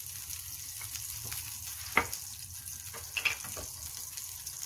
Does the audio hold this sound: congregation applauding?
no